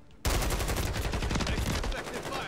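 Rapid automatic gunfire in a shooting video game, loud and continuous, a dense burst of shots starting abruptly and running to the end with no talking.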